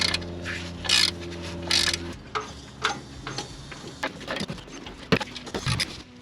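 A ratchet wrench clicks in short bursts while nuts come off the flex plate and torque converter in a vehicle driveline removal, with metallic ticks, clinks and handling noises close by in a workshop.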